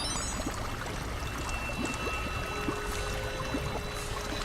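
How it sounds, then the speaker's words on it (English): Continuous pouring, gurgling liquid sound as water is pumped back into a tank in a video game, steady and moderately quiet with no speech. "So I need to pump this back to the water tank."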